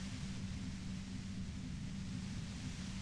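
Steady wash of broadband static in Disco Elysium, a constant hiss with a heavy low rumble underneath, unchanging and even for the whole stretch with no voices.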